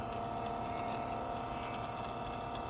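A small electric cruise control actuator motor from a 1981–1985 Mercedes, bench tested, runs with a steady, even hum for the whole stretch, close and unchanging, with no voices.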